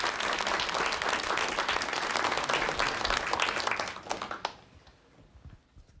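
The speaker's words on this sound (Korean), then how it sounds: "강헌구 교수님께 다시 한번 큰 박수 보내주십시오" A studio audience applauds a lecturer at the close of a televised lecture: dense, steady clapping for about four seconds, then quickly fading to near silence.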